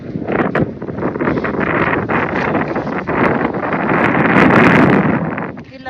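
Cold, icy wind during a hike to Donnelly's Dome buffets the microphone in a loud, continuous roar that swells and dips, nearly drowning faint voices.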